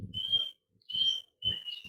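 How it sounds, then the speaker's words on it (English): A bird in the Bali jungle near Ubud gives three clear, high whistled calls separated by short pauses, fairly close against a quiet background with faint low rumbling. "You're just hearing bird."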